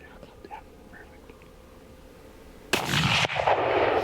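A rifle shot at a bull elk on a hunt outdoors cracks loudly and booms with echoing rumble, then a second close shot follows, after quiet whispered coaching.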